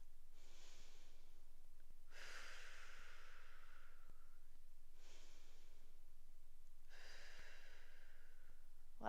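Slow yoga breathing sounds close and clear, with audible breaths in and out at a relaxed, even pace. Each long airy breath is followed by a quiet pause.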